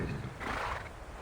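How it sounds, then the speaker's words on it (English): A horse whinnies briefly at close range in the fantasy game Reverse 1999, a short bright neigh standing alone over a steady ambient backdrop. "The horse seems to naturally gravitate to the knight, drooping its head to brush up against her."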